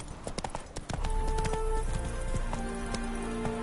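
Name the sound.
horse Roach galloping in video game Witcher 3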